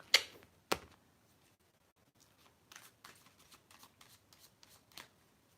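Tarot cards being shuffled and drawn during a reading: two sharp riffle snaps at the start, then a quiet stretch followed by soft, scattered card slides and taps, faint and close.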